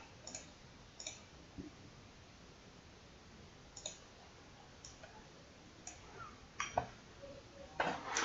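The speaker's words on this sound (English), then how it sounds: "clicking things as if I understand what the hell's going on" Clicks from computer controls while starting a livestream: scattered, sharp, isolated clicks at irregular intervals, faint and close, with a soft background hiss and no talking.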